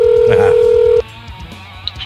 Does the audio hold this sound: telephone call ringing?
yes